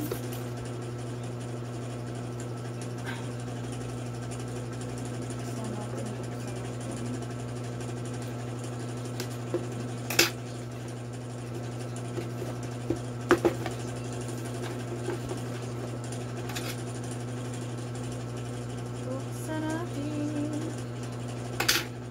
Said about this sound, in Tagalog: I-off muna natin tong electric fan kasi maingay siya